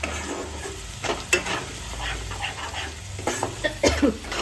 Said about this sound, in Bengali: এবার এই মশলাগুলো আমি তেলের মধ্যে খুব ভালোভাবে কষিয়ে নিই